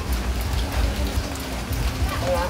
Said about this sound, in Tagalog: Medyo maulan-ulan ngayon.